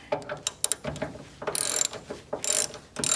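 A hand ratchet snugging down the shock bolts on a 1970 Mach 1, close and clicking in quick bursts of pawl ticks, with rapid rattling runs between short pauses.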